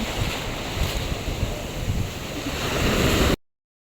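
Big ocean waves roll onto a swimming beach with a steady, rumbling surf under heavy wind noise on the microphone. The roar swells louder just before it cuts off abruptly.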